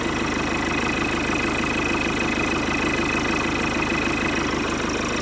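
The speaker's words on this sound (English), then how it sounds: "let the engine running for a little bit longer" A Citroen C3 with the 1.6 HDI diesel engine, which has a fault that makes it cut out at random, idles steadily nearby with an even, rhythmic diesel clatter and low rumble, and nobody talks.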